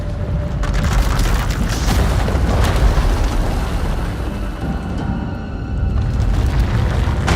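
A deep, sustained rumbling boom rolls on continuously as an eruption tears through an asylum in the Star Wars: The Old Republic game, loud and dense with low-end roar and crackling debris throughout.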